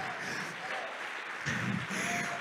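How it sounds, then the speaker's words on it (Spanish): Applause from a congregation at an evangelistic church service in Houston, Texas: a steady, dense wash of clapping that carries on and grows slightly fuller partway through, with no talk over it. "Dele un aplauso fuerte."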